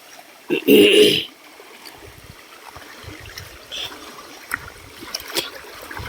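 River water trickles and rushes as people wade across, a soft continuous flow with a louder splashing burst near the start and scattered small splashes after, with faint voices in the background.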